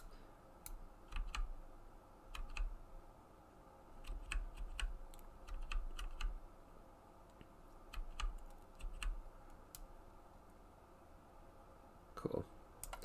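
Arrow keys on a computer keyboard are pressed in scattered taps and short clusters across a quiet room. The clicks are faint and close, with a soft hum and a brief knock near the end.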